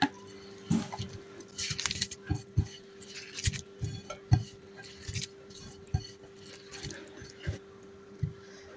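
Boiled potatoes mashed by hand with mustard oil, dried chilli and raw onion, producing soft, irregular squishing and light clinking against a plate, close by, over a steady background hum.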